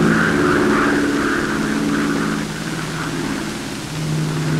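A Martin B-26 Marauder, a WWII bomber, gives a loud, steady engine drone that holds without a break from start to end, with no voices over it.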